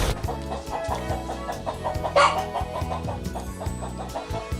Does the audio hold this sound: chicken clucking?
yes